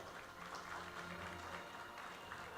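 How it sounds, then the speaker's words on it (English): Applause rises to welcome Professor Zhang at a multicultural forum, a steady, faint patter of many clapping hands running throughout. "掌声欢迎张教授。"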